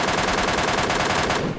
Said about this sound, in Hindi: पर मेरे मित्र गन शॉट्स की आवाज़ आती है यहाँ से अपार्टमेंट की तरफ से